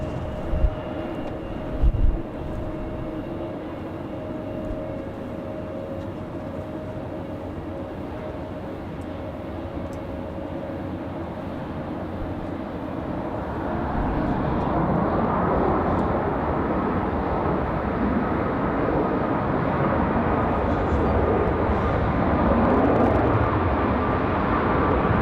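A Southwest airliner lands on runway 23 left at Raleigh-Durham International Airport in gusty wind. A steady distant jet rumble swells into a louder, broad roar that holds to the end.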